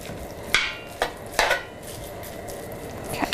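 Ground meat is broken up with a utensil in a pan with olive oil, a few sharp scraping clacks against the pan over a soft steady sizzle.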